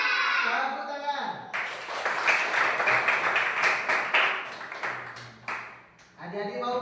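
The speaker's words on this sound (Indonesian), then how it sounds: "Tepuk tangan." A group of children clap their hands together in a classroom, a dense burst of rapid clapping that lasts several seconds, with a voice speaking before and after it.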